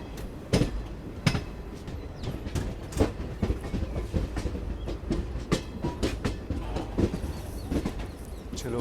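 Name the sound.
Garib Rath express train slowing down near Bharoli Junction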